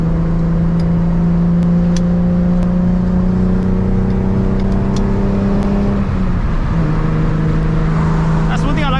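An 800 hp turbocharged Nissan 350Z, driven without its front bumper at night, drones steadily from inside the cabin with a sustained engine tone that shifts in pitch near the end as it changes speed, while a voice talks over it.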